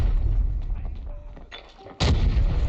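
Grenade blast in the Arena Breakout shooter game, a sudden loud, sharp boom that cuts through quieter gunfire and room noise, then a sustained rumbling tail.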